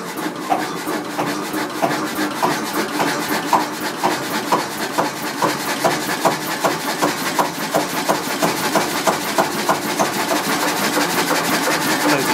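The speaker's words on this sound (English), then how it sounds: "I'll run the engine a bit quicker." Kelvin K1 vintage diesel engine speeding up, a steady rapid mechanical knocking rhythm with rasping texture, close and fairly loud throughout with no talk.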